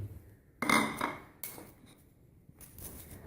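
A spoon scrapes and knocks inside a pan of masala with potatoes and cauliflower, giving a few close metallic clanks and scrapes with pauses between.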